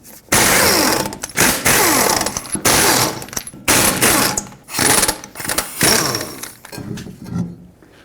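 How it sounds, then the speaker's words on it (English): A 21mm socket on a powered driver spins lug nuts off the wheel of a 2003-2008 Toyota Corolla, giving loud bursts of rapid rattling that start and stop in several separate runs. "Use a 21mm socket and take off all 5 of your lug nuts so we can take the wheel off."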